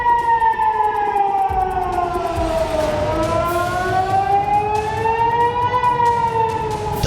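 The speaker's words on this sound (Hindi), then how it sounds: "इजराइल के करीब 80 शहरों में सायरन बजने लगे।" Civil defense sirens wail across Israeli cities during a missile attack, several overlapping tones rising and falling slowly in a steady, continuous howl that fills the whole stretch at strong volume.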